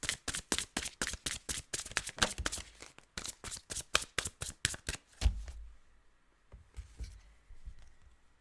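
A deck of tarot cards is riffled and shuffled in quick rapid-fire bursts, close and crisp, for about five seconds. A few softer taps and handling sounds follow in near quiet.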